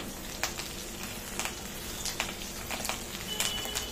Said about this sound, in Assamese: ইয়াতে দিলো আলুটো মই লাল কৰি ভাজি লম